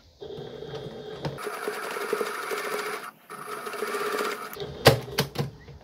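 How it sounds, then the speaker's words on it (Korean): A sewing machine stitches down an elastic waistband along an existing seam line on a child's hanbok-style pull-on pants, running in steady rapid bursts with a brief pause midway and a few sharp clicks near the end. "박음선 따라서 잘 안 보이게 조심해서 고무줄을 한번 눌러 박아 주겠습니다."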